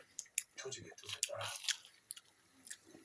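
Someone chews almond fried chicken close to the mic, making soft crunchy bites and wet chewing at a low level, with faint voices mixed in.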